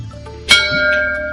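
A school bell rings for lunchtime with a single sharp, loud strike that leaves a long, sustained metallic ring.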